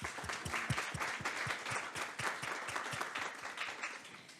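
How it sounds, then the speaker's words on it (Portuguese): Sustained applause from an audience at a Brazilian awards ceremony honoring the country's most innovative companies: dense, steady clapping that fills the room for several seconds, with no voices over it. "uma salva de palmas para os premiados"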